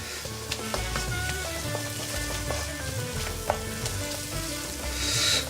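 Tomato puree being stirred into a sauce in a pan, with a continuous sizzle, soft spoon scrapes and occasional clicks, closer and hissier toward the end, no one speaking.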